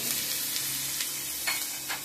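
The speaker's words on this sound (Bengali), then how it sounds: "কালো জিরে ফোড়ন দিলাম আর তেজপাতা ফোড়ন দিলাম, দিয়ে একটু পেঁয়াজটা ভালো করে ভেজে নেব।" Sliced onion sizzles steadily in hot oil tempered with black cumin (kalo jeera) and bay leaf, a close, even frying hiss with occasional soft stirring scrapes and no voices.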